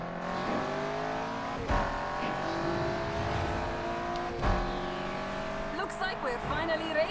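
Race cars in Need for Speed Unbound roar with a loud, sustained engine drone that climbs steadily in pitch, broken by a couple of sharp gear-shift thumps and some whining, wavering engine notes near the end.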